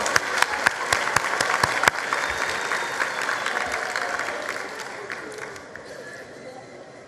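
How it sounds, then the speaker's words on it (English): Applause from the audience at a school results announcement ceremony, several sharp claps up front over a dense, steady clapping wash that gradually fades toward the end. "A round of applause once more"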